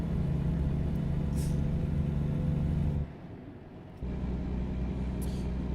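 Steady low engine and road rumble from a car on the highway, taking an exit after hard braking; the drone drops off briefly for about a second partway through, then resumes at the same level, with no voices.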